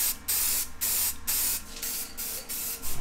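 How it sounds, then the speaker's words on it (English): Spray gun bursts coat freshly welded mini bike parts, about six sharp hissing blasts in a steady on-off rhythm, close and loud, with short pauses between and no talk. "we'll hang them up, shoot some paint on them"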